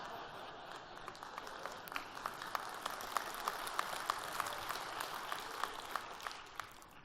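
A conference audience at a sales event claps, a steady patter of many hands at moderate level with individual sharp claps standing out, no speech over it.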